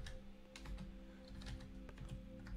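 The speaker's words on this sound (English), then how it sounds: "we're going to type scoreboard" Rapid clicking keystrokes on a computer keyboard as a command is typed in Minecraft, irregular taps close up over a steady low hum, with no speech.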